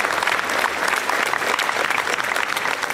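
An audience bursts into loud, sustained applause, a dense wash of many hands clapping continuously with no voices standing out.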